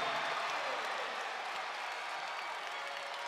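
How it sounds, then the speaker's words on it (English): A basketball crowd at a Western Kentucky at Charlotte game roars and applauds in a dense, steady wash of cheering that holds loud for a few seconds. "Crowd again making some noise"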